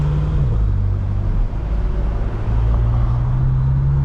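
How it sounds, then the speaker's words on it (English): A BMW M6 engine drones steadily from inside the car, with its pitch dropping sharply at a downshift and then settling into a low, even rumble. "I am never gonna get over the way that downshift sounds"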